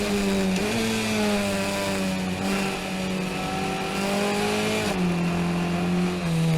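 A race car engine drones hard at Summit Point, its pitch climbing steadily, dipping abruptly as the driver shifts into second, then rising again, loud and close from the cockpit with no speech.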